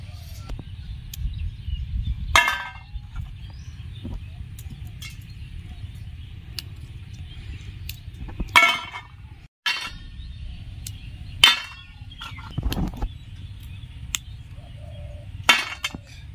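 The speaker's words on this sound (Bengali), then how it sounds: "আমি সব গাঠিয়াগুলো ভেজে নিয়েছি, এবার ছোট ছোট করে ভেঙে নিলেই হয়ে যাবে।" Crisp fried gram-flour gathiya snacks are snapped by hand, giving about six sharp, separate cracks spaced a few seconds apart over a quiet, low background.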